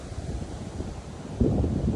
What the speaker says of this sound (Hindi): इतनी तेज़ हवा चल रही है यहाँ पे